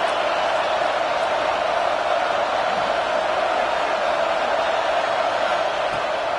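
A football stadium crowd at Florida vs Auburn roars steadily and loudly on a 3rd down, a dense, unbroken wall of cheering that holds for the whole stretch.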